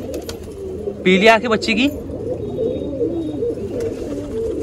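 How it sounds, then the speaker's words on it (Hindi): An agitated wild pigeon chick gives a short harsh call in the middle, set against a low steady background while someone talks nearby. "ये है जंगली कबूतर का बच्चा"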